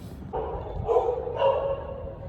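A dog at a hilltop temple in cold, damp weather gives a short burst of barks and yips, moderately close and heard on its own.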